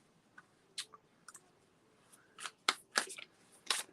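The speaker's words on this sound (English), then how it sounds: "I'm just going to shuffle some of my cards here." Tarot cards being shuffled by hand: quiet scattered clicks and flicks, then several brisk riffling bursts near the end, close and otherwise quiet.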